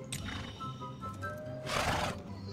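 A horse in the video game Alicia Online gives one clear, loud whinny near the end, preceded by soft hoof clip-clops over low game background sound.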